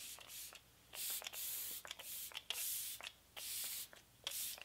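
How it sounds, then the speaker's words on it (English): Flower Beauty Seal the Deal Luminizing Setting Spray misted onto a face in a series of short, crisp hissing bursts, about seven in a row with brief pauses between them, close and fairly quiet. "use the Flower Beauty Seal the Deal Luminizing Setting Spray"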